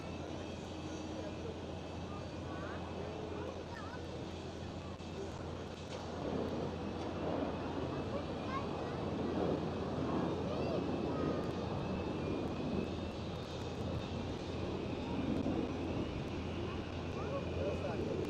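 Transavia jet airliner taking off at Schiphol: a sustained engine roar that swells partway through and holds, fairly distant and soft, with wind noise and people talking over it.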